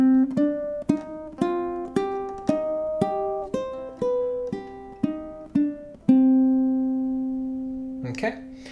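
Ukulele picks out bars 3 and 4 of In the Hall of the Mountain King, about a dozen crisp plucked notes in a steady stepping rhythm, ending on a long ringing note, close and clear with no talking.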